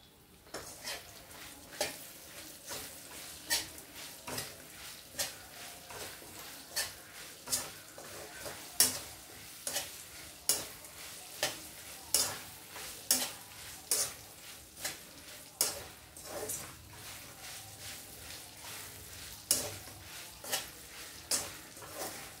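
Red chilies stir-fried in a pan for a karonda and red chili chutney: steady sizzling throughout, with a spatula scraping and clicking against the pan in a regular rhythm, close and fairly loud, with no voices.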